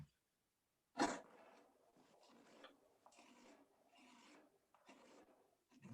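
A gouge carves wood on a spoon mule: one sharp scraping stroke, then a run of softer rasping cuts repeating at close range, quiet and unaccompanied by talk.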